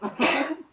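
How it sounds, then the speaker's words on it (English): A single short, sharp sneeze from a person indoors, a quick breathy intake followed by an abrupt loud burst that fades within a second. "I feel like I have to sneeze."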